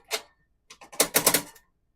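Igniter at the bottom of an RV gas oven clicks, one sharp click and then a quick rattling run of clicks, close and loud, with no voices.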